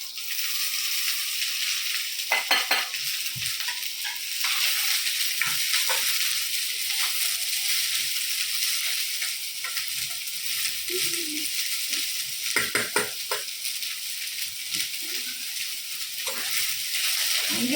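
Onions and mustard seeds fry in a hot pan while an idli dish is prepared, a steady loud sizzle with occasional scraping stirs and small pops throughout, no voices.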